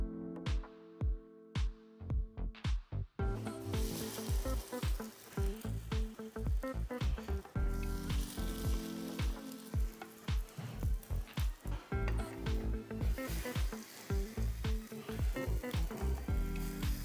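Food sizzles and fries in a hot pan, a steady crackle broken by a string of sharp clicks and taps at the start and again later, close and moderately quiet.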